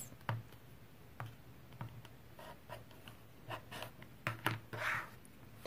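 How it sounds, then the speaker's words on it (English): Extra fabric edges are trimmed off a patchwork block for a T-shirt quilt, heard as faint, sparse ticks and soft scraping cuts scattered irregularly over a very quiet background. "trimming away these extra bits"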